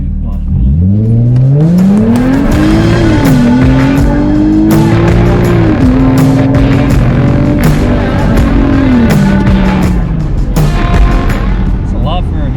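A supercharged V6 Ford Mustang drag car launches hard and accelerates, its loud engine note climbing steadily through the gears with tire squeal, up close for about ten seconds before backing off; voices are faintly audible underneath.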